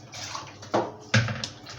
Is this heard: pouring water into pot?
yes